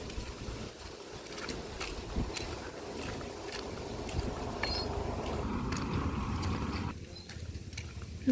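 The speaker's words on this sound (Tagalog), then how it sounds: "Lakas ng hangin." Strong wind blows outdoors beside a river, a steady rushing buffet across the microphone with occasional gusts and faint background sounds.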